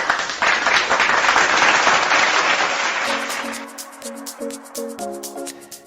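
Enthusiastic applause from a crowd for several seconds, then tapering off as a few bright musical tones chime in.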